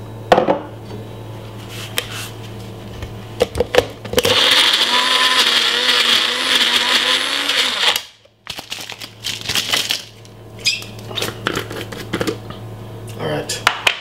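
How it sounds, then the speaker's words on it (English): A blender whirs loudly for about four seconds while making a Caribbean recipe, its motor pitch shifting slightly, then cuts off; clattering and handling noises come before and after. "We're gonna blend this about 3 to 4 minutes."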